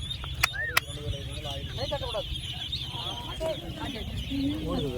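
Thousands of ducks quack continuously as a crowded flock, with people talking underneath and a couple of sharp clicks near the start.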